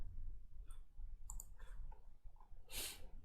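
A computer mouse clicks on-screen buttons while opening the Scratch 3 editor: a few sparse, light clicks spread across a quiet background, one a little sharper near the end.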